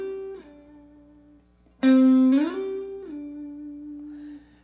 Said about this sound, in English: we're going to try to slide from 5 up to 12 and then back down to 7